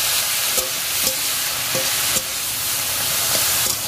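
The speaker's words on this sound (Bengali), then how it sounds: "এটাকে একটু ভালো করে নেড়ে চেড়ে নেবো।" Steamed leafy greens stirred in a hot pan, loud continuous sizzle with regular sharp utensil knocks and scrapes against the pan roughly every half second, close up and without speech.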